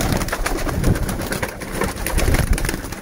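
Pigeons coo in a home loft where a breeding pair is being kept, with soft repeated calls overlapping against a busy, hissy background and no talking.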